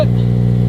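An 8th-generation Honda Civic Si engine fitted with Skunk2 Alpha headers holds a steady, loud, close idle-to-light-rev drone, a brief clip with no talking.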